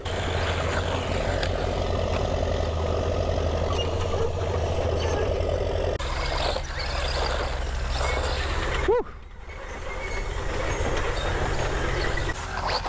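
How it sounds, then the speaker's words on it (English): Tractor engines drone steadily in the background, a continuous low rumble that dips briefly near the end before picking back up. "I do apologise for the noise of the tractors behind me"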